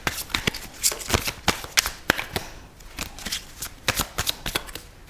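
Slippery oracle card deck being shuffled, a rapid, close run of crisp riffling slaps and flutters in two bursts.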